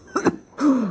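A short throat clearing followed by a rough, drawn-out cough, close and fairly loud, with no talking.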